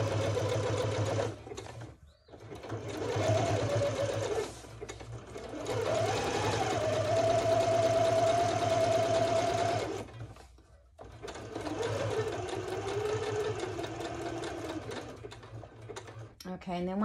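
Domestic sewing machine stitching in bursts of steady mechanical whirring and ticking, stopping briefly between runs, fairly close and loud, with no talking over it.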